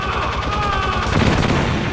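Gunfire-like blasts from explosive barrels in Metal Gear Solid, a dense rattling barrage that swells louder and heavier after the first second, with no talking.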